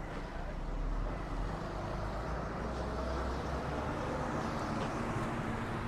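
Street traffic on College Road in Chaman, Pakistan: a continuous low roadway rumble of passing vehicles with faint engine drone and no clear individual horns.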